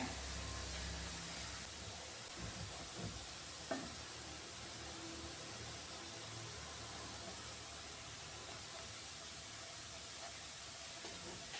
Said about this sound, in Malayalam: രണ്ട് സൈഡ് ഇതുപോലെ ഒന്ന് റോസ്റ്റ് ചെയ്തെടുക്കണേ